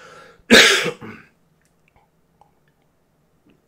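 A single harsh cough from a person with bronchitis, close by, short and forceful, followed by near silence with a few faint clicks.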